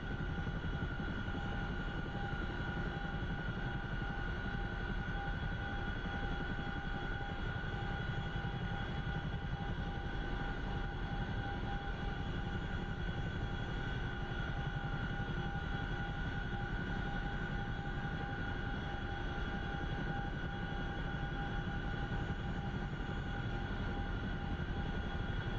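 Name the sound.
aircraft flying after takeoff in a video game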